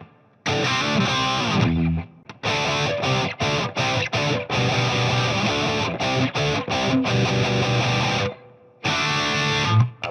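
An Epiphone Les Paul electric guitar runs through a tube screamer into a Marshall amp with reverb, playing heavily distorted rhythm chords in choppy bursts with abrupt stops and short silent gaps, loud and close.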